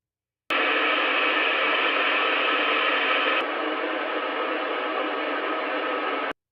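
Broadband noise plays through a Mica MB42XC center-channel speaker, first on-axis at 0 degrees and then at 25 degrees off-axis. The steady hiss runs about six seconds without a break, turning slightly duller and quieter partway through.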